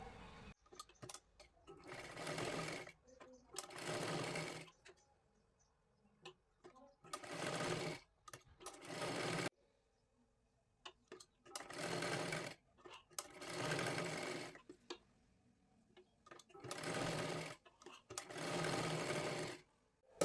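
Sewing machine stitching folded square fabric pieces for a boat neck blouse, running in repeated bursts of a few seconds each, separated by short pauses with quiet handling noises.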